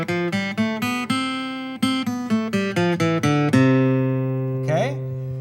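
A guitar plays an ascending do-re-mi major scale, eight plucked notes one after another at a steady pace, each clean and ringing, with the last note held and left to sustain and fade, close and alone.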